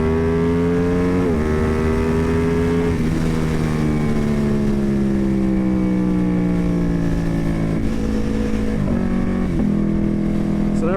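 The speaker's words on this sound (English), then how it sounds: "There we go, full throttle on the V2." A modded 2021 Ducati Panigale V2 with an aftermarket exhaust is ridden at full throttle, its twin-cylinder engine climbing in pitch through each gear, with brief dips at the shifts before it winds up again, loud and close.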